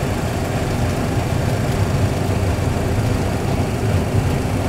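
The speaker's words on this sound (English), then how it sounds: "Takeoff. Setting thrust." Aircraft engines roar in a dense, steady rumble as thrust is set for takeoff, a loud broadband drone filling the whole span without pause.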